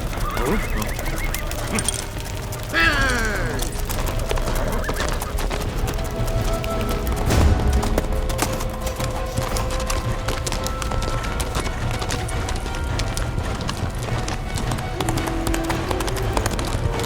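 A horse gallops hard in a dramatic chase, its steady hoofbeats running through a dense soundtrack of music and effects for many seconds, with a short bird-like cry near the start.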